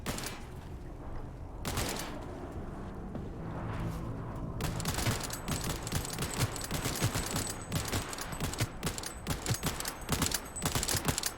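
Rapid gunfire in the video game Cyberpunk 2077 crackles in dense, continuous bursts that grow busier and louder as the fight goes on, with no speech.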